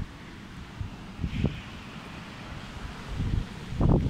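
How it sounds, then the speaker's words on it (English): Wind rises in gusts as a storm squall line with heavy rain sweeps in during Storm Ciara, buffeting the microphone with low rumbling surges that swell louder toward the end, no voices present. "there comes the wind"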